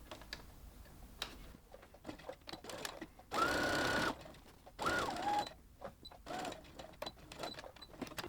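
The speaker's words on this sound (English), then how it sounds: "we'll go ahead and sew with a 1/2 inch seam allowance along that line" A sewing machine stitches a half-inch seam on an extra-large fabric tote bag in two short, loud bursts of rapid whirring, separated by quieter handling clicks and fabric shuffling.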